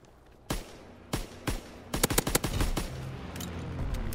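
Automatic gunfire in a World War II video game, with a few spaced single shots followed by a rapid burst of close, loud rounds and a lingering rumble afterward; no speech.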